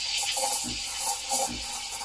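Espresso machine steam wand aerating milk for cappuccino foam, a close, bright hissing with rhythmic sputtering chirps as air is drawn in, fairly quiet.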